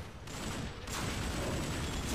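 Steady, dense gunfire from Transformers: Dark of the Moon, a continuous roar of rapid shots with a brief dip before it surges louder again.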